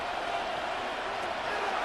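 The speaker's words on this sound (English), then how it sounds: "this crowd trying to force a false start here" A stadium crowd in Madden 26 roars in a steady, dense wash of noise as fans try to force a false start on third and inches, with no clear voices standing out.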